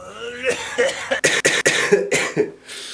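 A few harsh, bursty coughs in quick succession, close and fairly loud, mixed with throaty vocal sounds that edge toward laughter.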